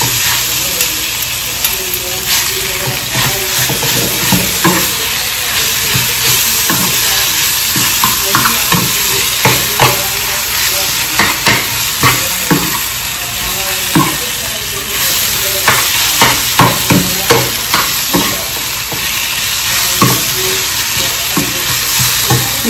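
Onion, garlic and turmeric sizzle steadily in a pan for an eggplant chutney, a loud continuous fry broken by repeated scraping stirs.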